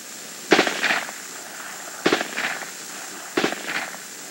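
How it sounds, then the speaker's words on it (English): Short bursts of machine gun fire, three separate volleys of a few rapid rounds each, sharp and fairly close, spaced over a few seconds with nobody talking. "Sounds like more than two rounds going out there."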